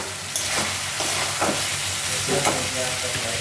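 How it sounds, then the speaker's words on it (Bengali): Potatoes stir-frying in oil in a pan for an egg curry, a steady close sizzle with a few scraping strokes of the spatula as it's stirred. "আলুটাও দিয়ে একটু কষাতে হবে।"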